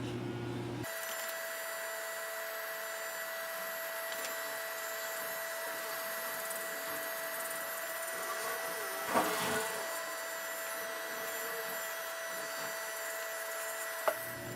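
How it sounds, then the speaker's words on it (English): An Andis T-Outliner hair trimmer runs with a steady electric buzz from start to finish, close and even, broken only by a couple of brief clicks near the end. "Next, I'm going to use the Andis T outliner."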